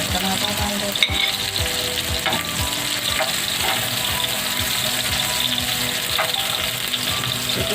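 Tomatoes frying in a hot pan as the base for fish masala, a loud continuous sizzle and crackle close by with occasional stirring scrapes, no voices.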